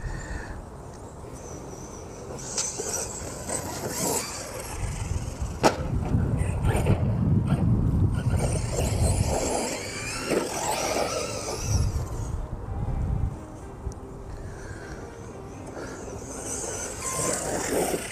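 A Team Corally Kronos XTR 2022 RC car on 4S power runs outdoors, its electric motor whining and surging in and out with rough tyre and gravel rumble across a long stretch, with no talking.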